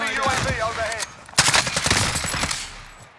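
Rapid bursts of gunfire crackle in Call of Duty: Modern Warfare Warzone, a dense volley of close, loud shots following a stretch of a voice talking, then tapering off toward the end.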